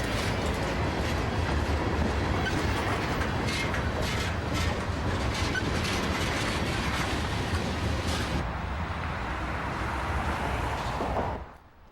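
A train rumbles past with rhythmic clickety-clack of wheels on rails, loud and continuous, then the noise drops and cuts off as it ends.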